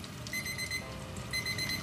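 A kitchen timer rings in two short bursts of high electronic beeping while croquettes fry, fairly faint and with no one speaking.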